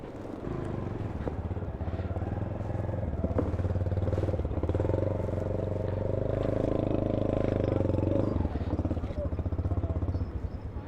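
Hasan's motorbike, the third bike to go on a rough off-road hill climb, revs loudly and steadily as it pulls away, its engine roar continuous and close throughout, with clatter and voices underneath.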